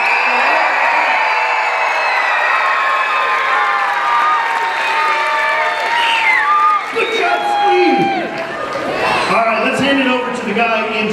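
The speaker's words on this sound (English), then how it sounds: "Let's cheer the screen." Crowd at a youth tech-challenge awards event cheering and whooping loudly, with shouting children and overlapping voices sustained throughout.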